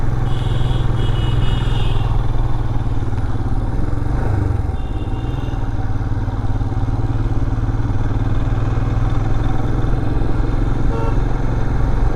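An RS motorcycle with a failed front brake rides past on a road, its engine a steady, close mid-pitched drone mixed with traffic rumble and light clatter for the whole stretch.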